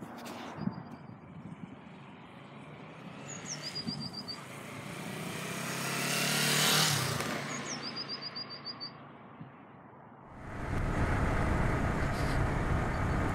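1991 Kawasaki GPz305 Belt Drive, a 305cc motorcycle, ridden on a sunny road; the engine hum swells to a peak and fades with gear changes, bird chirps sound nearby, and heavy wind buffeting takes over at the end.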